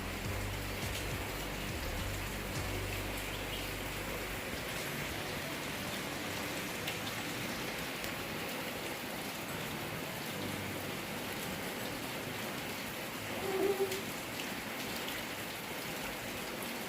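Steady daytime rain falls continuously on outdoor surfaces, a dense even hiss of drops throughout with no voices.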